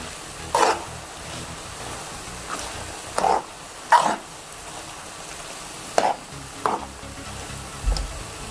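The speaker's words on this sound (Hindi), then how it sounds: "अच्छे से आपने इसको हिलाते रहना है, आपने छोड़ना चम्मच बिल्कुल नहीं है, हिलाते रहिएगा ताकि आपका हलवा जो नीचे ना लगे" Carrot halwa stirred in a pan with a spoon: several separate scraping strokes at uneven intervals over a faint background sizzle, nearby and with no speech.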